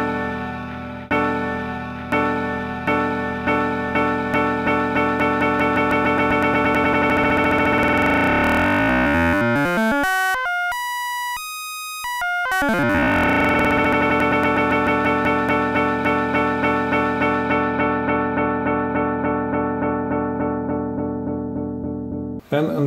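A looped sample on a Korg Volca Sample repeats in rapid stuttering bursts. Shortening the sample length makes the loop blur into a rising, then falling, pitched glitchy tone, loud and continuous with no talking.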